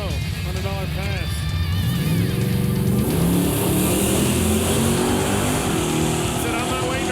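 A 1969 Pontiac Firebird's engine revs up loudly on a drag strip pass, climbing in pitch through the gears with a sustained, close roar while people talk over it.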